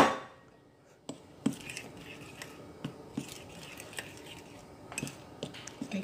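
Banana cake batter being mixed by hand in a bowl, with scattered soft scrapes and a few sharper utensil clinks against the bowl, close and fairly quiet.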